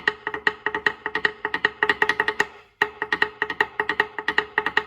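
A full Samoan drum pattern played up close: dense, rhythmic strikes in repeating phrases with a short pause midway, the beat then resuming with steady accented hits and no talking.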